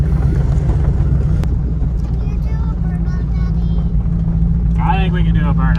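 Low, steady rumble of an LS V8-swapped Toyota Prius out on the road, droning continuously and loudly throughout, with a voice speaking over it near the end.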